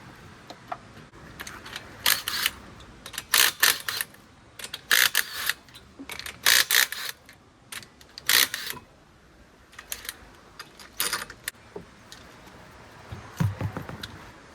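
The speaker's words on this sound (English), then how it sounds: "let's try out this nice new jack" A new car jack is worked in close, repeated ratcheting bursts, sharp mechanical clicks coming in uneven groups with short pauses between.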